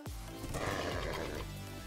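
Horse neighing in Minecraft, a single drawn-out whinny that rings clearly and close over a low background, with no talking.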